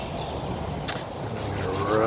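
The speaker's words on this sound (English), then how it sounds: "I'm going to rub those hands together, generate a little bit of heat" Bare hands rub briskly together outdoors on a chilly morning, a close, steady dry swishing friction that lasts about two seconds with no talk over it.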